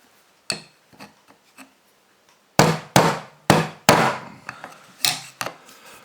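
A screwdriver tapping on a side-loader starter motor during repair, a series of sharp metallic knocks, a few light taps first and then louder irregular strikes in quick succession, close up with no speech.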